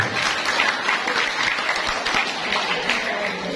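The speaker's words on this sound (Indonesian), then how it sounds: "tepuk tangan untuk beliau" An audience at a leadership lecture claps steadily, a dense, sustained round of applause that holds at an even level throughout.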